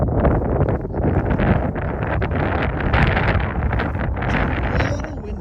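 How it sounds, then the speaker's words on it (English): Strong outdoor wind buffets the microphone near a historic coal mine site in Drumheller, with continuous gusty rumbling and roaring throughout. "It's a little windy here."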